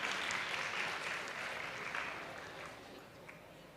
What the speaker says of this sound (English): Please give them a huge round of applause once again.